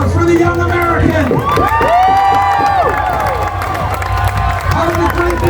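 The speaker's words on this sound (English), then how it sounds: "How about another big, nice round of applause for the young American?" A loud crowd at a Renaissance fair joust roars with cheers, whoops and high shouts over steady clapping, the noise swelling and holding throughout.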